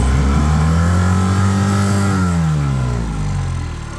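A Mercury 9.9 outboard motor on a sailboat dinghy runs unevenly with a spitting, sputtering drone for a few seconds, loud and close, its pitch sagging as it falters. The motor has a failing impeller or a restriction.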